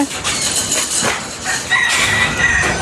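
Chickens cluck and a rooster crows at an exotic animal park in France, close and fairly loud over steady outdoor background noise, with no clear talking.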